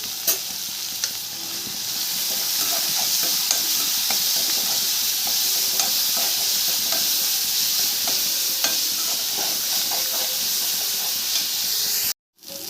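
Chopped onions with a little mint and coriander sautéing in a pan, a steady close sizzle with stirring scrapes running throughout, cutting out briefly near the end.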